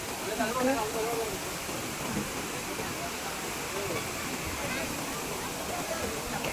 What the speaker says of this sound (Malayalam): വെള്ളത്തിൻ്റെ സൗണ്ട് കേൾക്കുമ്പോൾ നമ്മുടെ മൈൻഡ് ഒരുപാട് റിഫ്രഷ് ആകുമെന്ന് കേട്ടിട്ടുണ്ട്